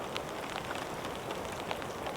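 Heavy rain falls steadily in a forest, a dense even hiss with sharper drops spattering on nearby surfaces, close and continuous throughout.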